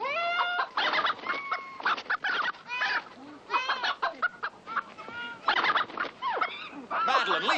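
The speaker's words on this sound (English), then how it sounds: "leave those chickens alone." Chickens cluck and squawk close by on a farm, a dense run of overlapping bird calls with short pauses between bursts.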